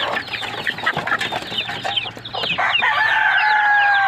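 Hens and newly hatched chicks cluck and peep close by in a busy, overlapping chorus, with high, thin chick cheeps that grow more sustained toward the end.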